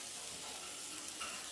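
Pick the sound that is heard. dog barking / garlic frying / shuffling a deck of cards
garlic frying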